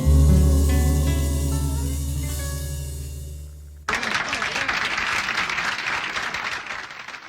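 A sung song's last sustained chord fades out and then an audience bursts into dense, even applause that carries on loudly to the end.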